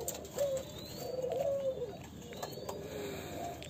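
A pair of Thai spotted doves, red-eyed, coo close by in soft, low, rolling calls. The phrases repeat with short gaps over a quiet background.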